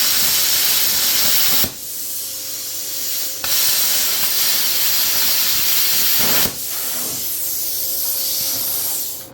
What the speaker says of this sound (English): we're going to try to cut some wire rope here. I've never actually cut any with a plasma cutter